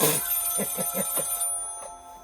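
An old telephone's mechanical bell rings in a short rapid burst of metallic strikes, loud and close, then fades into a brief decaying ring.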